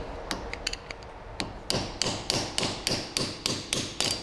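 A screwdriver is hammered to drive out the rear wheel bearing seal on a Toyota Hilux. A few light taps come first, then a steady run of about a dozen crisp metallic strikes close by.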